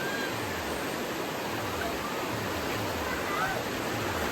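Loud, steady rush of Gabur-Gabur Falls in Peñablanca, Cagayan, a continuous broadband roar of falling water with faint voices mixed in.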